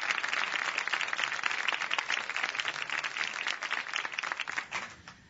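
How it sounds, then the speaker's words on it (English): A studio audience applauds a foot surgeon as he walks on, a dense, continuous wash of many hands clapping that holds steady, then thins and fades out at the end. "I'd say you deserve that applause"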